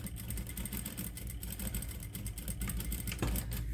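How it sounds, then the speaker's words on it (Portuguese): A sewing machine stitching old denim jeans fabric into a cushion cover, its motor running in a steady, fast mechanical whir with rhythmic needle clatter throughout. "Costura até o final, onde eu estou enxergando o corte do tecido."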